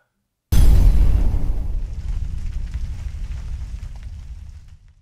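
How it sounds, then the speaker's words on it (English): A single loud explosion bursts in suddenly after a brief silence, then rumbles and decays for several seconds, with no talk over it. "Cue explosion!"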